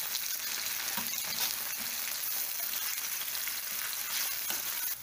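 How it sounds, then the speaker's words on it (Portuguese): Sliced leek sautéing with already-softened onion in a pan, a dense continuous close sizzle with faint stirring scrapes underneath, no voices. "vou colocar o alho poró, agora que a cebola já está refogada, e vou deixar refogar também"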